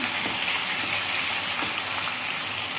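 Macaroni cooked in milk is stirred in a pot, giving a steady sizzling, bubbling wash with faint scraping ticks throughout and no voices.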